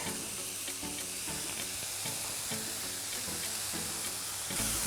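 Mushrooms and garlic sizzle over high heat in a pan with a loud, steady frying hiss, broken by faint scraping stirs and a brief louder burst at the end.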